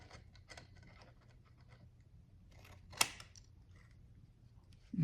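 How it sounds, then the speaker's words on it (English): Quiet, close snips of scissors trimming a part of an RC truck, a run of soft cuts and rustles with one sharp click near the end. "So we can just take our scissors and trim this."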